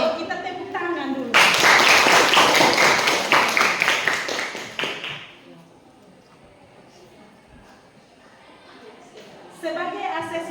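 A classroom of students claps together in a loud, dense burst lasting about four seconds, then fades; a teacher talks before and after the clapping.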